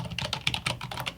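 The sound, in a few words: typing a file name on a computer keyboard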